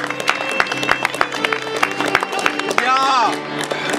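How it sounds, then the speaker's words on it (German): Audience applause for a performer at a medieval fair, with brisk clapping and crowd noise running throughout, voices chattering underneath and a brief cheer or whistle near the end. "Einen Applaus für unseren Gerold."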